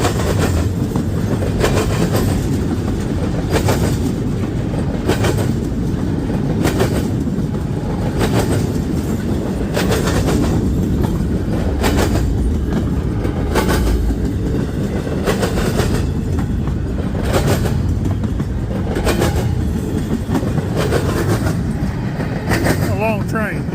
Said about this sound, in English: A long train.